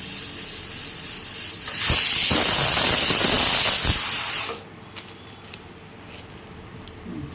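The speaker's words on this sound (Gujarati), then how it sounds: "સીટી વાગી ગઈ છે તો હવે ગેસની ફ્લેમ ઓફ કરી દઈએ." A pressure cooker cooking Mexican vaghareli khichdi lets out a loud, sustained hiss of escaping steam that lasts about three seconds, then cuts off abruptly and leaves a quiet background.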